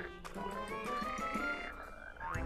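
Frogs croak in a dense chorus, cartoon-style, during a migration along their route: a continuous, loud layered croaking with overlapping pulses and a rising call near the end.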